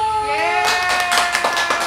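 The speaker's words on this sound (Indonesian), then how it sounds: "Iya, tepuk tangan dulu." A quick run of hand claps comes in after a sustained tone, with a voice faintly underneath.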